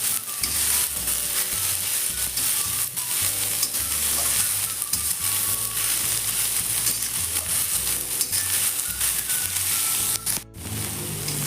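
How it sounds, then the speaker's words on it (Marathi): Vegetables stir-fried on a high flame for veg chowmein, giving a loud, continuous hiss of sizzling oil with rapid clatter of tossing and stirring throughout, close up and without talk. "हे पहा आता थोड्या भाजत आलेल्या आहेत. जास्त भाजून घ्यायच्या नाहीत."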